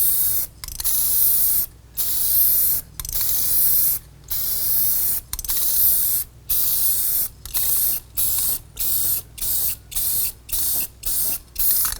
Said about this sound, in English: This is a big area for spray paint